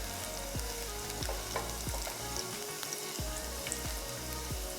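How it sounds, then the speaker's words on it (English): Hot cooking oil sizzles and crackles steadily in a pan while gnocchi are being prepared, with a dense continuous hiss, soft pops and occasional low knocks of a utensil, close and moderately loud with no talking. "That sounds make you know that the oil is ready and it's really hot."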